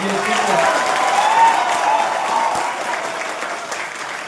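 Steady applause from an audience of professors and students at a comedy performance at BHU, a dense even wash of clapping with crowd noise, sustained and fairly loud throughout.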